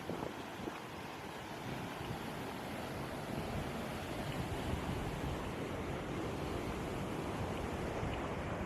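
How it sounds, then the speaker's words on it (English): Water flows under a lake drainage structure on the Darling River at Menindee, a steady broad rushing wash mixed with outdoor wind, even and continuous with no talk. "And you can hear the water flowing under here."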